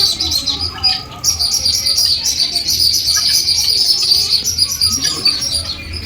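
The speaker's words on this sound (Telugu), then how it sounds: "ఈ పక్షుల సౌండ్స్తో మైండ్కి చాలా రిలాక్సేషన్గా కూడా ఉంటుంది." Birds chirp and tweet steadily in a park aviary holding pigeons and parakeets, a dense, continuous chorus of high calls close by with a low hum underneath.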